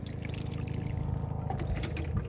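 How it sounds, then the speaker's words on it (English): Water poured steadily onto a dry plant in a small vegetable garden, a continuous close splashing trickle with no pauses. "Also, this is dry. So let's give it some water since we're standing right here."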